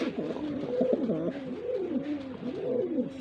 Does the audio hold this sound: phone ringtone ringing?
no